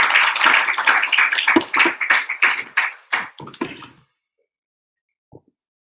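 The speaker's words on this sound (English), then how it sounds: "let's give a huge round of applause to welcome" A burst of audience clapping welcoming a speaker to a spiritual class, lively and uneven for about four seconds, then stopping abruptly into near silence with one faint tap afterward.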